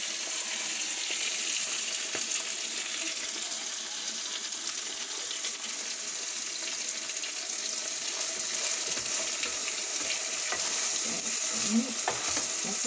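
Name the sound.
sauce with chicken set to boil in a pot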